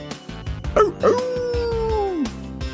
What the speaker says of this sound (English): The sound of the dog.